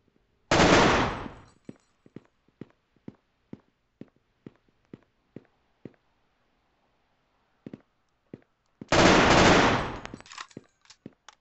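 Gunfire in a video game shooter: two long, loud automatic bursts separated by a string of sharp single shots in a steady rhythm, with short gaps of silence between them.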